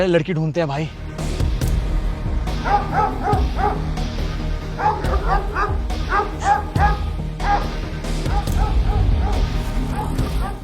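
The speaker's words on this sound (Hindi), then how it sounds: "कुत्ता भौंक रहा है आपने, वहाँ देखे?" A dog barks and yips repeatedly in quick irregular bursts, fairly close, while people talk over it.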